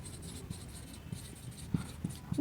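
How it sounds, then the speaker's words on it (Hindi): A pen writes an answer by hand on paper, giving soft, close scratching strokes with a few light taps and a louder scrape at the end. "तो इसका आंसर हम लिखेंगे"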